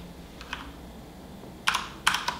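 Keys clack on an HP OMEN Encoder mechanical keyboard with Cherry MX switches: a few faint taps early, then a quick cluster of crisp, close strokes near the end, with no talk.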